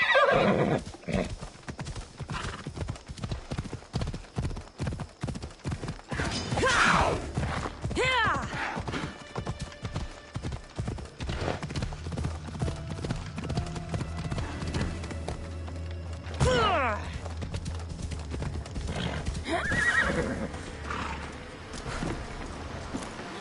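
A horse in Assassin's Creed Odyssey gallops with steady rhythmic hoofbeats that keep going throughout, broken by a couple of loud neighs and whinnies, while a game soundtrack plays underneath.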